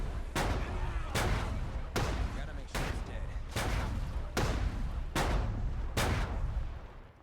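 Flashbang grenades go off one after another among a horde of zombies in the State of Decay 2 video game, roughly eight loud, sharp blasts at a steady rhythm, each with a rumbling tail.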